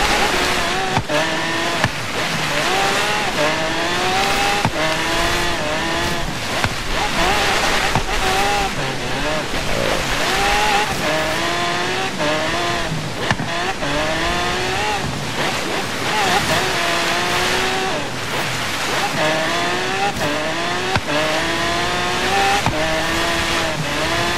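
A car drifts in Forza Horizon 3 on the snowy Blizzard Mountain track, its engine revving up and down in swooping pitch under a constant roar of wind and tire noise, loud and close throughout.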